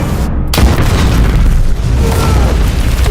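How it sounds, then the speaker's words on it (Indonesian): A loud, sudden dynamite explosion bursts out and rolls into a long, heavy rumble that stays dense and sustained for several seconds. "Ledakan itu adalah suara yang sebelumnya didengar oleh kru Kapten Anderson"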